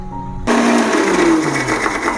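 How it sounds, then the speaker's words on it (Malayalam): A mixer grinder starts up abruptly after a short pause and whirs loudly and continuously, finely blending ingredients for Kerala spiced buttermilk. "ഇത് നമുക്ക് മിക്സിയിലിട്ട് ഫൈനായിട്ട് അടിച്ചെടുക്കാം"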